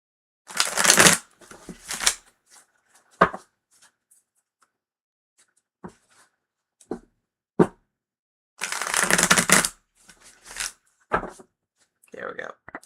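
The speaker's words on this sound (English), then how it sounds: "Need to shuffle a little bit more." Tarot cards are shuffled by hand in several separate bursts of crisp riffling and flicking, with quiet pauses between them and a few soft taps.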